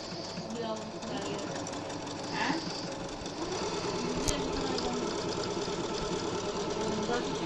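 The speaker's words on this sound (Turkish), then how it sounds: "Ne güzel dikiş dikiyor." A sewing machine run by a five-year-old boy sewing picot edging whirs with a steady mechanical rattle that speeds up partway through, with voices talking faintly in the background.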